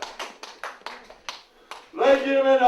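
A wrestling crowd claps after a women's match ends in a draw, scattered, separate claps in a sparse rhythm, followed by a voice speaking over the end.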